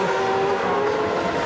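An A1 Grand Prix race car at Brands Hatch drones past with a steady high engine note that holds and slowly shifts pitch, loud and continuous without speech.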